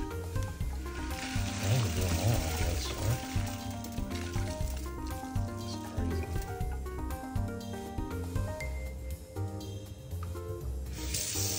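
Dried arbol chiles being washed under water make a continuous close rush of splashing and trickling water with rattling pods, steady throughout and without talk.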